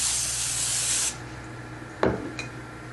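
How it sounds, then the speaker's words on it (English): Carpet cleaner sprayed onto a week-and-a-half-old red wine stain on carpet gives a steady, close hiss lasting about a second, followed by a couple of soft handling thumps. "I'm going to spray it with the carpet cleaner"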